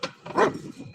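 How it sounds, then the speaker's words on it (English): Several dogs at a rescue bark in a quick, loud flurry, with sharp overlapping barks close by and a louder burst in the middle of the second. "Too much barking."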